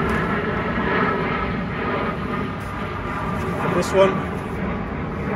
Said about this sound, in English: Excuse the plane noise, we're right next to Heathrow Airport,